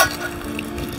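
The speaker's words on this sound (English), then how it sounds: "So now I put my very full cast iron pan on the hot embers." A very full cast iron pan set on hot embers sizzles and crackles softly in a short, close burst, with no voices.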